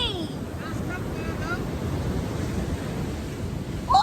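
Ocean waves wash up a Hawaiian beach at Sunset Beach, a steady broadband surf hiss with wind buffeting the microphone, close and continuous, while voices and a child's higher-pitched speech sound faintly over it.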